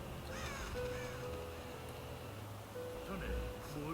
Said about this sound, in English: Look at the crows.